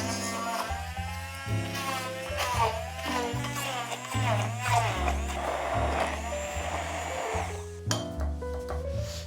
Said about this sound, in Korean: 요거를 이제 갈아줄 건데, 저는 오늘 이 도깨비 방망이 같은 요런 거를 사용을 할 거예요